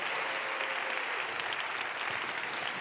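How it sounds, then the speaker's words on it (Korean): A church congregation claps to welcome new members, a dense, sustained burst of applause from many hands in a hall, fairly close and even throughout with no voices over it. "우리 박수로 우리 새 가족들 환영합시다."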